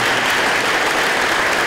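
Students at a technical school awards ceremony receive a full round of audience clapping, loud, even and unbroken from start to finish.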